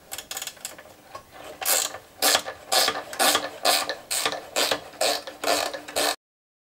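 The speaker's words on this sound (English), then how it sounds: "these ratchet drivers and spanners" A hand ratchet driver clicks in short rhythmic bursts, about a dozen crisp ratcheting strokes close up during work on a Mitsubishi Colt air filter housing, with no talk over it.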